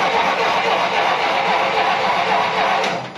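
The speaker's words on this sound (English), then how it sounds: "and the engine turns over" A Lemonhead car engine cranks over and catches, a steady mechanical whirring churn that holds at an even loudness before easing off at the end, close and with no voices.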